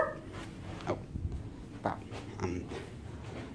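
Dog making short whimpers and yips indoors, several brief separate bursts close by with soft background noise.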